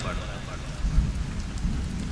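Dense rain pours steadily with a low rumble of thunder rolling underneath throughout.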